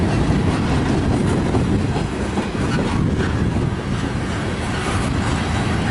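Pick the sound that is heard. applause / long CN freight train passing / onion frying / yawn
long CN freight train passing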